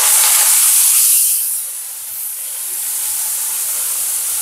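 Onion dropped into hot oil with garlic bursts into a loud steamy hiss that eases after a second and settles into a steady, softer sizzle, close by with no talking.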